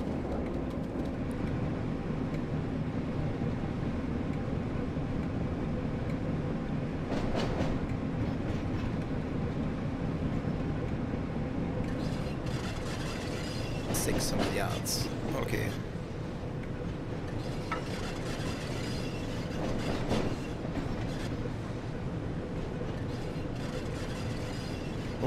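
Class 08 diesel shunting locomotive rolling along rails in the Train Sim World 2 game, a steady low engine drone and rumble with occasional rattling clunks and brief squeals, continuous at moderate level with someone speaking over it at times.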